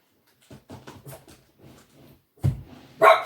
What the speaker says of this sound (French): c'est ma chienne qui lui arrive un petit coup de folie